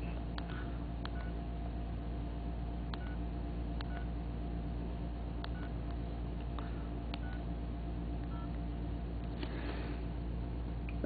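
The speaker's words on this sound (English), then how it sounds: "I've entered the unlock code for this phone" A mobile phone keypad sounds a series of short, evenly spaced DTMF beeps as an unlock code is typed in, with a steady low hum underneath.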